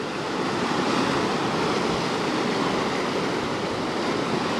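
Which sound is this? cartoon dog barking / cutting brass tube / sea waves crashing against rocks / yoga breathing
sea waves crashing against rocks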